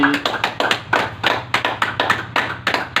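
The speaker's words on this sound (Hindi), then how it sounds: "चलो बजा दो ताली।" A yoga group claps together after kapalbhati breathing practice, a loud close run of rhythmic hand claps in quick bursts with brief gaps, no talking over it.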